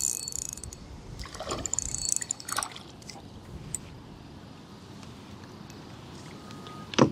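Fishing line running off a reel while a fish is fought, a soft ticking, ratcheting whir under steady outdoor background noise, with a few sharper clicks.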